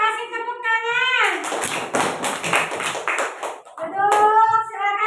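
A group of children breaks into a burst of clapping for a classmates' group, a dense patter of hands lasting a couple of seconds, framed by a child's sung or spoken voice before and after.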